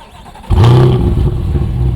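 A 2025 Chevrolet Corvette Stingray with sport exhaust fires up by remote start from a warm-ish engine: a sharp, loud bark, then a deep, rowdy idle rumble close by.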